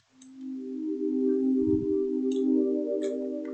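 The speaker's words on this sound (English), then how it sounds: "So you got the standard sine wave" A pure sine wave tone from the Sytrus synth in FL Studio, a smooth steady sustained pitch that swells in over half a second and holds alone with a few faint clicks above.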